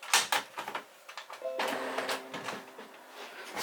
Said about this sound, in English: I'm going to check whether the printer is actually unhappy or it's still just thinking